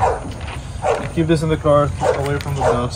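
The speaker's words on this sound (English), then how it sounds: "Sorry about the dog." A dog barks and yips in short bursts close by, mixed in with a person talking throughout.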